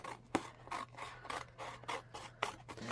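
Scissors trimming paper at the end of a strip of washi tape, several quick close snips and scrapes in an uneven rhythm over a faint hum.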